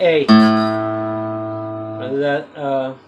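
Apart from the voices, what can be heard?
No distinct noise like a dog, phone or traffic.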